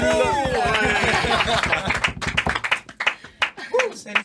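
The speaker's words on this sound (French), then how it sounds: "la mascotte, un tonnerre d'applaudissements, s'il vous plaît, pour Bubule." Scattered hand clapping rises at a Christmas-special talk show, starting under overlapping voices and then thinning into a few loose, separate claps close by.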